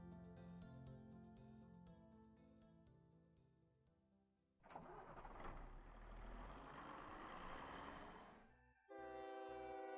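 An electric train from the OpenTTD video game plays a steady, tonal horn-like chime, then breaks into a loud, broad rushing rumble of movement, and a bright chiming tone returns at the end.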